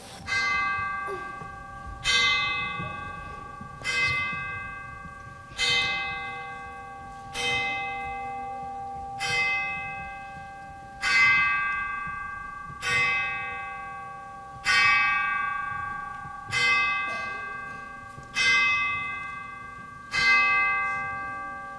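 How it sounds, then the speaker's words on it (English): A large church bell tolls twelve slow, evenly spaced strokes, each ringing out and decaying before the next, clear and alone with no voices. "The bell struck 12."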